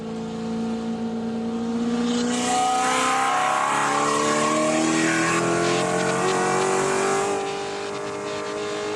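A Spec Corvette race car at Daytona International Speedway roars loudly and steadily, engine pitch climbing through the gears as it builds speed, continuous and close with no talking.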